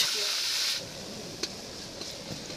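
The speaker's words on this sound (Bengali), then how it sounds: "এরপরে গরম তেলে দিয়ে দিল পেঁয়াজ" Onions go into hot oil on an outdoor picnic stove, giving a loud burst of hissing sizzle at first that soon drops to a quieter, steady fry with a few small crackles.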